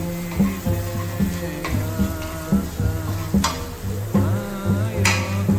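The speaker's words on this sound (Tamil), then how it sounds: "நம்ம கட் பண்ண சின்ன வெங்காயம், பூண்டு பற்களை சேர்த்துட்டு நல்லா ஃப்ரை பண்ணிக்கலாம்" Shallots and garlic cloves fry in shallow oil in a kadai, a steady close sizzle under a looping background melody, with occasional stirring scrapes and clinks.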